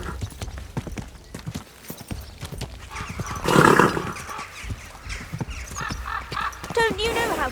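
Horse hooves clip-clop steadily in Kingdom Come: Deliverance II, with a brief neigh in the middle, set under ongoing conversation between characters.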